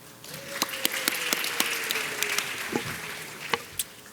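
Scattered applause from a student town hall audience, a light patter of hands with a few sharper individual claps standing out, fairly distant and thin.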